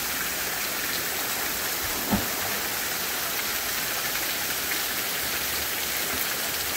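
A mountain waterfall shower at Loma Miranda pours down in a constant, dense rushing hiss like heavy rain, with one brief splash partway through and no speech.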